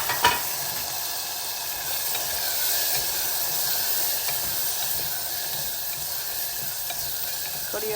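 Tomato and curry leaves sautéing in hot oil tempering with mustard seeds and turmeric, giving a loud continuous hissing sizzle from start to finish, close and unbroken, with no voices.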